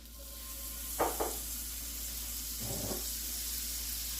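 Butter hits a preheated cast iron skillet, with two short sizzling bursts and a later brief crackle over a steady low hum and background hiss.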